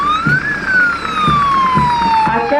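A wailing 108 ambulance siren sweeps up and down in pitch during a parade, loud and close, with steady traffic rumble beneath it.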